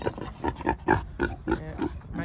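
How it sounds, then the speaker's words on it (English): A pig at a small pig farm grunting in a quick series of about a dozen short, close, snuffly grunts. "most chattiest pig I've ever had, actually"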